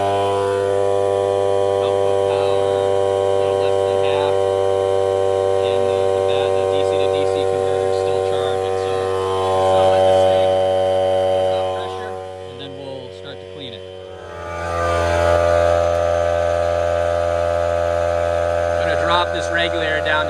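An air compressor runs to blow clean the radiators of a John Deere 5075E tractor, giving a steady, loud droning motor hum with strong tonal harmonics that dips briefly and then shifts pitch partway through.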